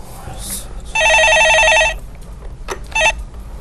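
A telephone rings for an incoming call to a live stock-advice broadcast: one long electronic trilling ring, then a brief second burst, clear and close over quiet studio room tone.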